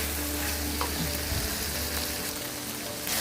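Okra being sautéed in a pan for vendakka puli: an even, moderately quiet frying hiss that holds steady throughout, with faint occasional stirring, no talk.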